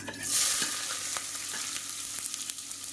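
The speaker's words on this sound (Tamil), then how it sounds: "இப்போ வெங்காயம் வதக்கட்டும்" Sliced onions sautéing in hot oil with cumin, fennel and curry leaves for a kuzhambu. A loud initial sizzle as they hit the pan eases into a steady crackle, with a few close spatula scrapes and no talking.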